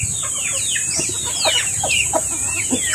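Native chickens cluck in a coop where hens brood their eggs, with several short, near clucks scattered across the clip over a steady high hiss and low background rumble.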